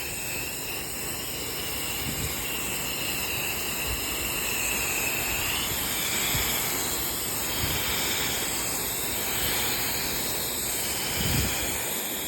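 A pressure washer rinses soap off a dirty house siding, a steady loud hissing spray that swells and dips as the wand sweeps, with no talking.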